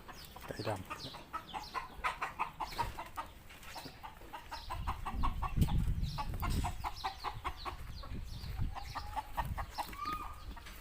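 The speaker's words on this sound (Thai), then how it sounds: "ไก่ดำ" Black chickens cluck repeatedly in short, rhythmic bursts that run through the whole stretch, with occasional louder calls, amid low rumbling background noise and some faint voices.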